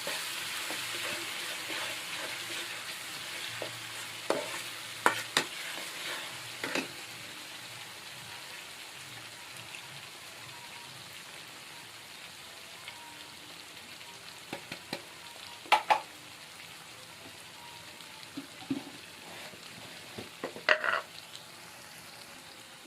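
A mixture stirred and frying in a pan in a home kitchen, with a soft continuous sizzle under occasional sharp scraping and clinking strokes of a spoon against the pan at irregular intervals.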